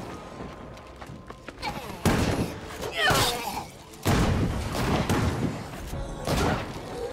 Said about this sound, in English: At least I hear shotguns going off.